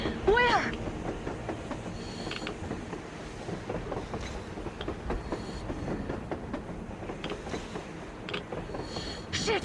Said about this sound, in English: A damn train on the surface!